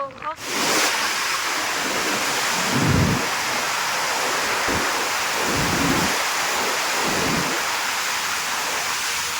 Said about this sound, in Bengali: শেষমেশ বৃষ্টি এলো